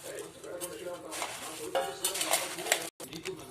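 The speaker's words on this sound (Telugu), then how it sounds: "ఇప్పుడు ఎన్నో గిన్నెలోకి వేసుకొని మొత్తం కలిపేసుకోవాలి ఫ్రెండ్స్" Puffed rice, chopped onion and tomato being stirred together in a bowl, with repeated scraping and clinking of a utensil in quick bursts and a short silent break, while someone talks over it.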